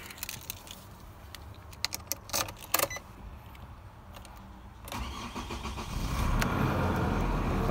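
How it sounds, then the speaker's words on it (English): Keys jingle and click near a 2015 Nissan Navara D23 before its engine cranks and catches, then settles into a steady, rising idle, heard close with no speech. "let's give the car a quick start now."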